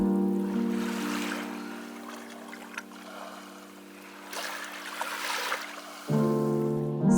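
Ocean waves wash onto the shore at Maratua island in Indonesia at dusk as the tide rises, a soft continuous surging rush beneath steady background music.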